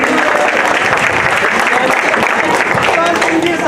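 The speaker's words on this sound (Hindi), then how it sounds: "जोरदार तालियों से भाई।" Loud, continuous applause from a crowd at a Buddha Jayanti gathering, greeting a name just proposed; the clapping stays dense and sustained, with some voices mixed in.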